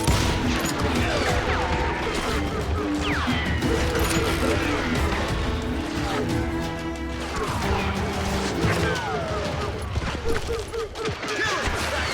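Gunfire in the western shooter game Call of Juarez: Gunslinger, with dense crashing shots and impacts running continuously over a loud game soundscape while voices talk throughout.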